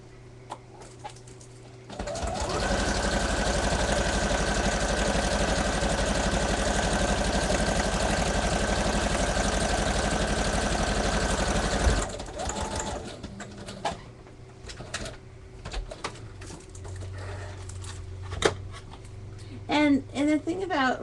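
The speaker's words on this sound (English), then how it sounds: "so I'm going to sew this to the page." A sewing machine stitches a pocket onto a scrapbook page, running in one loud continuous burst for about ten seconds before stopping, followed by quiet handling noises and a few soft spoken words.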